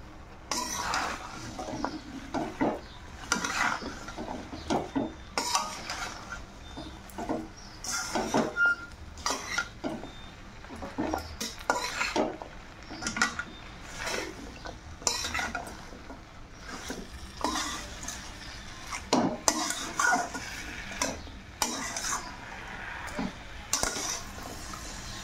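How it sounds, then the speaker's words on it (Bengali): Pumpkin and dried shidol fish curry being stirred in a pot, with repeated close clinks and scrapes of a utensil against the metal and a soft sizzle underneath, continuing steadily throughout without any talk. "দিয়ে ভালো করে মিশিয়ে আবার ঢেকে দেবো।"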